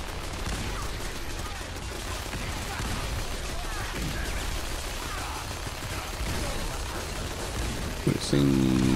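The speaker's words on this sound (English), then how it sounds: "So there's definitely a bit of shooting going on here." Dense, continuous crackle of gunfire in Fallout 4, a steady rattling barrage filling the whole stretch with no clear pauses, ending in a brief tonal game sound.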